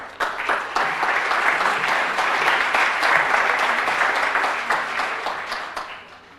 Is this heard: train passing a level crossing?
no